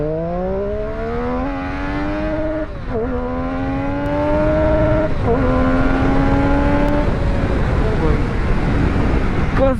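A Triumph Street Triple RS motorcycle accelerates hard at full RPM, its engine note climbing loud and close, then dipping briefly at each of several gear changes before rising again, with wind rush underneath.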